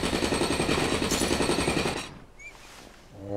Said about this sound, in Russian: А у меня тут отбойный молоток в кармане